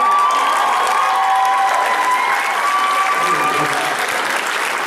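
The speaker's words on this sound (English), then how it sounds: "I really appreciate your applause and attention" An audience applauds at a youth rugby awards banquet for under-16 and under-18 teams, dense, sustained clapping from a large crowd with a few scattered shouts, loud throughout.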